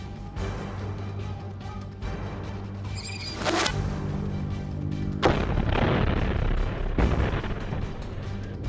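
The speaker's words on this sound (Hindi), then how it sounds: "इसके बाद अल कासिम के लड़ाके सामने से जा रहे एक इजरायली टैंक पर भी रॉकेट से हमला करते हैं, जिसमें भारी विस्फोट होता है।" Rocket strike on an Israeli tank in Khan Yunis, Gaza: a heavy explosion bursts out partway through, followed by loud rumbling, crackling blast noise and further sharp booms, with no talking.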